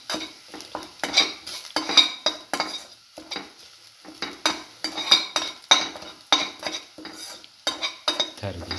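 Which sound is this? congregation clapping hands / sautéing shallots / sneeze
sautéing shallots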